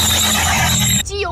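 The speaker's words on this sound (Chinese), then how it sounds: "发动机皮带异响" A car engine's drive belt lets out a loud, sharp, sustained squeal over the engine's running drone, then breaks off abruptly into a short wavering tail.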